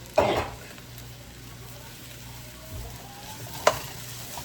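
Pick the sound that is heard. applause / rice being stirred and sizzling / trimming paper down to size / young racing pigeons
rice being stirred and sizzling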